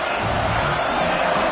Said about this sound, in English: Decibels rising as the crowd gets behind this defense on 3rd down